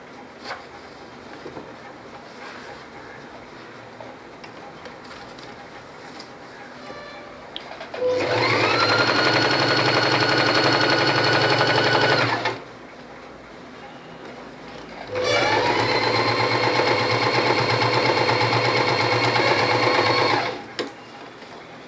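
A sewing machine stitches a pattu pavadai top in two long bursts of rapid, steady whirring, each about five seconds, loud and close, separated by a quieter room-noise pause.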